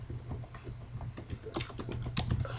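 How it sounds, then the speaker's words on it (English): Someone types on a computer keyboard, with quick, uneven clusters of close key clicks over a low background hum. "I'm just typing in what the most popular anime according to Anime News Network."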